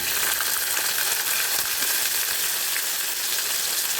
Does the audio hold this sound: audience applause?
no